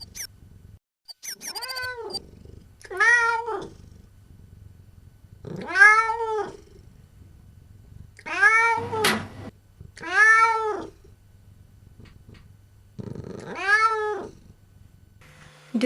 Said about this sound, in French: Tout à coup, cela se transforma en feulement